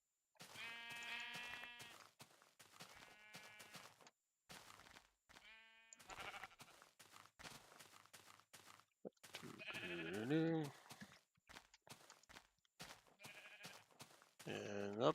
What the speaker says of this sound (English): I see those sheep.